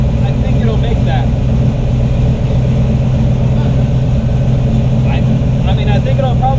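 Turbocharged 427ci Corvette engine with an 88mm turbo running on a dyno, a loud, steady, droning roar that holds throughout with no letup.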